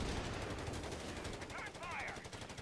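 Rapid machine-gun fire rattles in a sustained burst during a Company of Heroes 3 battle at the Salerno beachhead, loud and continuous, with brief voice fragments mixed in.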